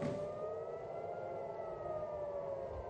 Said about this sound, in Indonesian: Suara sirine terdengar sebagai peringatan warga Israel akan adanya serangan.